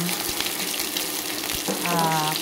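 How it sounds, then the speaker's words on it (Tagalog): Onions frying in a pan for pork steak, a steady sizzling hiss that runs throughout, close and moderately loud, with a brief bubbling gush near the end. "magprito muna tayo ng ating sibuyas"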